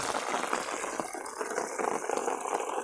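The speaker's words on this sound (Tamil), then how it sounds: "இந்த வயல்லேருந்து அப்படியே அந்த வயலுக்கு வந்து மழை தண்ணி போகுது பாருங்கள்" Rainwater runs from one paddy field into the next during a cyclone, a steady close gushing and trickling flow with no talking.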